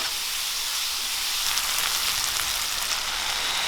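Vegetables for noodles stir-fry on a high flame with a splash of vinegar, giving a loud, continuous close sizzle and hiss without pause.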